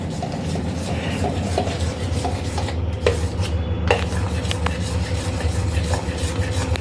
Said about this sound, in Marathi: आता आम्ही हळद आणि दही आणि बेसन टाकून याला छान फेटून घेऊयात आपण